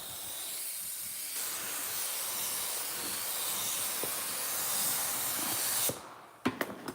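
A spray gun hisses steadily as it lays epoxy primer over a repaired car fender, a continuous close airy spray lasting about six seconds before it cuts off, followed by a few sharp knocks and clicks.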